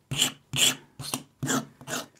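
A knife scrapes along the edge of a plastic sheet in five slow, even, rasping strokes, each one distinct and close, with short pauses between them.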